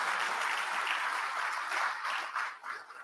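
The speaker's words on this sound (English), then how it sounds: "Yeah, you can clap, you can clap." Conference audience applauding at a musician event, a steady dense wash of many hands clapping for about three seconds, tapering slightly at the end with no talk over it.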